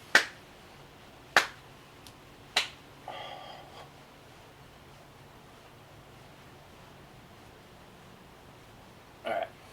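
A few sharp single hand claps during a yoga session: three crisp claps spaced about a second apart, a short soft patter, then one more clap much later, each alone over a quiet room with faint background hiss.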